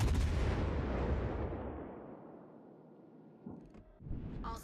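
A single heavy gun blast opens loud and booming, then rolls into a long fading rumble and echo, followed by faint clatter near the end.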